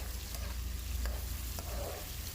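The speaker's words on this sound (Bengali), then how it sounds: "কড়াইতে তেল যখন গরম হয়ে যাবে কেটে রাখা পেঁয়াজগুলোকে দিয়ে দিন" Chopped onions fry in hot oil in a wok, giving a soft, steady sizzle with a few scraping stirs of a spoon against the pan.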